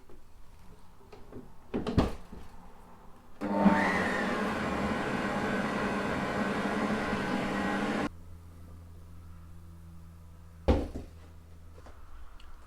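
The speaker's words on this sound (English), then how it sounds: "And blend until smooth." A kitchen blender whirs through wild garlic crepe batter in one loud, steady burst of about five seconds. Brief knocks and clatters come before and after it.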